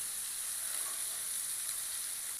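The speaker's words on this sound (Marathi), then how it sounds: "तव्याला चौकून फिरवायचं, म्हणजे मच्छी सगळीकडची चांगली भाजते" Steady, close sizzling of small fish frying on a hot griddle, a continuous bright crackle with no voices.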